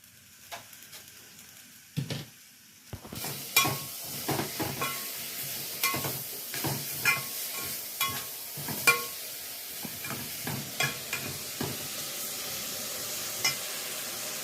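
Coconut and banana flower stir-fry frying in a pan, a steady sizzle with repeated scraping stirs as a spatula works the mixture, close and fairly loud throughout after a quiet start.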